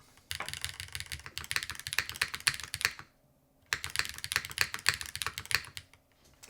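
Close, brisk typing on a Meletrix Dyna TKL mechanical keyboard in a soft mounting, in two rapid bursts of keystrokes separated by a brief pause.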